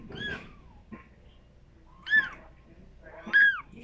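A very small kitten gives three thin, high meows spaced about a second apart, each short and moderately loud against a quiet background.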